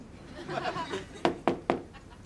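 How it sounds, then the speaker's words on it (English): Three sharp knocks on a door land in a quick, even sequence after a moment of murmured voices and light laughter. "Knock three times"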